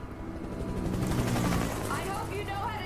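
Gunshots and a helicopter in the Alan Wake video game, a dense rolling roar of rapid gunfire over a steady rotor drone, rising and falling for a few seconds.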